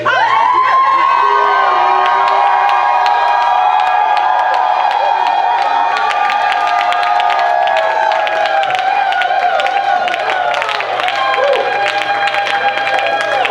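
A church congregation shouts and cheers with joy, a dense, loud crowd roar of many voices with high whoops and cries running steadily throughout, no pause or quiet moment.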